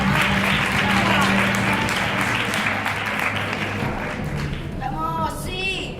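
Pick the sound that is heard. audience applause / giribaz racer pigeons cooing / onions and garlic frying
audience applause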